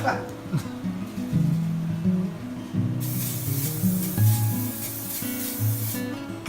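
A steady hiss of nonstick olive oil cooking spray runs for a few seconds while a person keeps talking over it.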